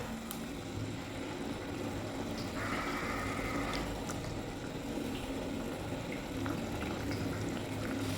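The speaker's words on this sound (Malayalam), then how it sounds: "ഇതൊന്ന് തിളച്ച് വരട്ടെ. മീൻ ഇട്ട് കൊടുക്കാം." A pot of tuna curry made with roasted ground coconut bubbles and simmers in a steady, close, continuous hiss with no talking.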